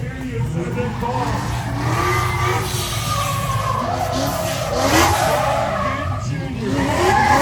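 A Mustang drifts at a Texas car show, its tires squealing and skidding steadily over a loud revving engine while an announcer speaks over a PA.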